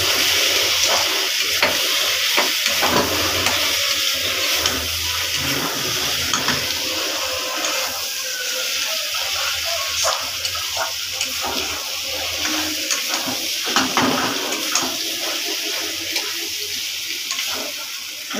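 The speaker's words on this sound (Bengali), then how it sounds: "হলুদ গুঁড়ো, লঙ্কার গুঁড়ো, জিরের গুঁড়ো দিয়ে দিয়েছি। দেওয়ার পর একটু ভালো করে নাড়িয়ে" Turmeric, chilli and cumin powder sizzle in a pan while being stirred for pumpkin curry, a continuous hissing fry broken by scraping, clinking strokes of the spoon, close and steady.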